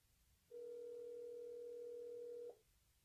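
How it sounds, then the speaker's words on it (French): Ringing tone of an outgoing video call on a phone: a single steady electronic tone held for about two seconds, clear and alone against a quiet background. "Je vais l'appeler en vidéo."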